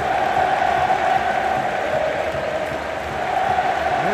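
Fluminense supporters singing together in a stadium make a continuous wall of crowd chanting, loud and even, with a sustained melodic band holding steady and no break in the noise.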